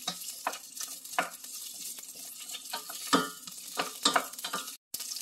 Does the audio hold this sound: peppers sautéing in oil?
yes